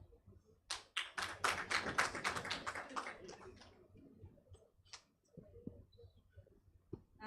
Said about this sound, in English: A hand clap.